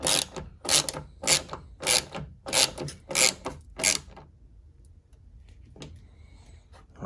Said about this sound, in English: let's go ahead and tighten this last one